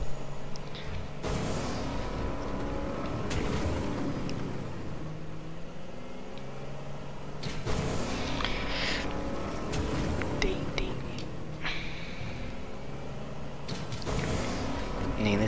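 A boat engine in the video game Fortnite, a rough, continuous motor roar with surging revs and splashy bursts, heard throughout under a player talking.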